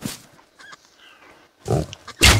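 A pig in an Old West video game lets out a few short, nasal grunts, then louder snorting oinks near the end, fairly close and with no talking over them.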